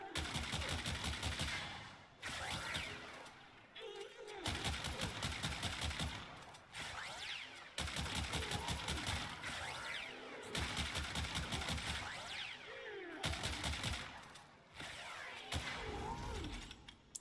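The Cascadia, a pellet-firing shotgun-type weapon in Warframe, fires in rapid bursts of a couple of seconds each, dense crackling blasts separated by brief pauses and repeating steadily, close and fairly quiet.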